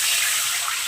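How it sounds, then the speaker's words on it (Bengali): Water pours from a bowl into a wok holding fried semolina, a brief close, steady hissing gush lasting about a second with no voices. "2 বাটি জল আমি এই কড়াইটার মধ্যে দিয়ে দেবো"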